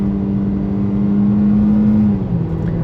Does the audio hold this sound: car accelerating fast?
yes